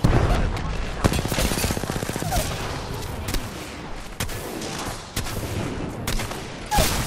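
Sustained gunfire rattles in Apex Legends, with rapid automatic bursts and sharp single shots that are loud and close throughout, alongside dense game action noise.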